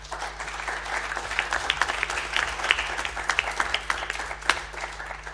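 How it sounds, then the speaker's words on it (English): Audience applause at a literary festival, a dense, steady patter of many hands clapping continuously from start to finish with no voices over it. "Applause for Sandra Hetzel."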